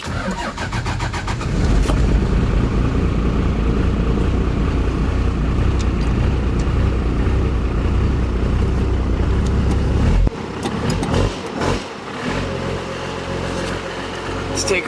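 A 2002 Ford Excursion Limited 4x4 with a 12-valve Cummins 5.9L diesel: a steady, loud diesel drone close by as it pulls away, then a shift to lighter, uneven engine sound with clicks near the end.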